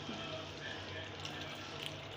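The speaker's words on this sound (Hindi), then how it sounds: "तो इसमें चला गया 1 कप पानी।" A cup of water poured into a pot of keema, a quiet steady splashing and hiss that runs continuously without a break.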